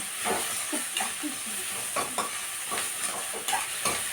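Onions and tomatoes frying in a pan for a spicy tomato dish, a soft low sizzle broken by several brief scraping stirs at irregular intervals, close and fairly quiet, with no talk.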